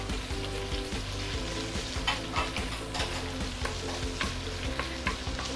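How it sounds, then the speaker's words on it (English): Ingredients fry in a pan for Singapore Hokkien prawn mee broth, a steady close sizzle with occasional scraping and stirring clinks and no talk. "I'm going to let it fry for a while."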